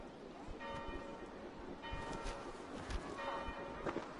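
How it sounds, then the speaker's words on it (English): Church bells ring in the video game Assassin's Creed Valhalla, several metallic strikes with lingering tones spread across the moment over a low ambient bed, moderately distant, with faint voices. "Do you not hear the bells?"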